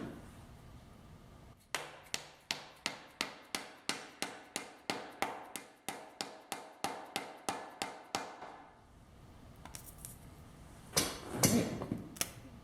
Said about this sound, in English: And we're going to take our hammer.